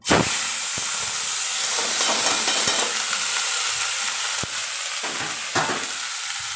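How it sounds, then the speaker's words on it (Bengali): Chopped onion frying in hot oil with black cumin: a loud, continuous sizzle and hiss, broken by a few sharp scrapes and knocks of a spoon stirring the pan, with nobody speaking. "এই যে পেঁয়াজ কুচানোটা আমি দিয়ে দিলাম"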